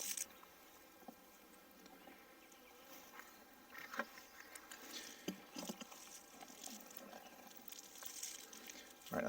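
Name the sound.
honey bees on comb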